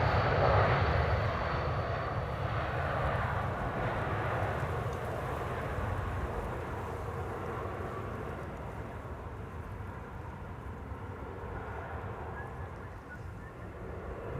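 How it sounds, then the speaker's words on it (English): A Saudia Boeing 787-9 Dreamliner arriving at Amsterdam Schiphol from Jeddah, its moderate, steady engine roar strongest at the start and easing slightly as it passes, with some wind noise mixed in. "Saudia Dreamliner up next. The one arriving from Jeddah"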